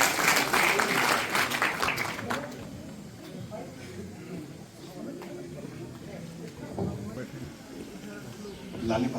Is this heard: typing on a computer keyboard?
no